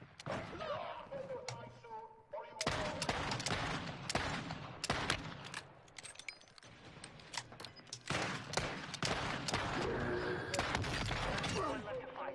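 Rapid bursts of video game gunfire crackle and pop in clusters throughout, loud and close, mixed with other sharp in-game impacts.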